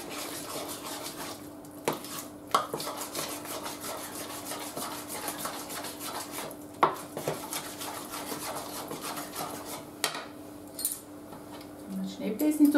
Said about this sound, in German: Und jetzt verrühren wir das Ganze.